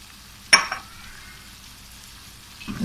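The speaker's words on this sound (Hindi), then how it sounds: "और ये 1 डली प्याज की जो हमने ली हुई थी, इसको हमने फ्राई कर लिया है। तो अब हम इसमें डाल देते हैं।" Fried onion drops into a pan of aloo matar with a sharp sizzle and clink, then a quieter frying hiss runs on, and another burst of sizzling comes at the end.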